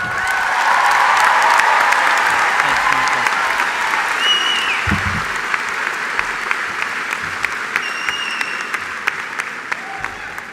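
Audience applauding a graduating class of the Columbian College of Arts and Sciences at a 2019 master's celebration, steady dense clapping filling the hall throughout, loud and sustained with a few sharper claps standing out toward the end.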